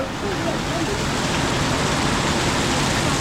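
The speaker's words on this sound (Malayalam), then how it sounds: "സൂപ്പർ മഴയാണ് പെയ്യുന്നത്" Heavy rain pours down steadily, a dense, constant broadband hiss that fills the whole clip without pause.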